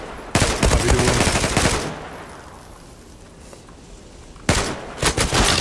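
Gunfire in the online shooter game Zula: a loud close burst of rapid automatic shots, a quieter stretch, then another sharp burst of fire.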